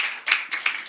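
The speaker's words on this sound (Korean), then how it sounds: "우리 큰 박수를 한번 환영드리겠습니다" A church congregation gives a short burst of welcoming hand clapping for two visitors, three quick swells of claps in under a second, fairly close and fading between bursts.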